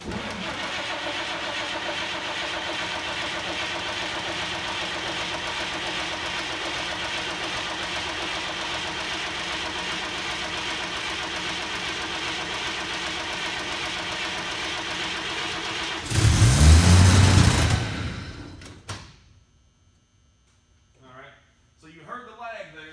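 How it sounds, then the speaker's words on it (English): A carbureted truck engine with the choke out and throttle pulled cranks for a long, steady stretch, then fires and roars up loudly before cutting back, followed by brief quiet clicks. "So all that cranking, the truck is going to fire up"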